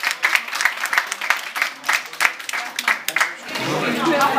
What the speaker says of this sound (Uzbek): Olqishlar faxrli insonlarga.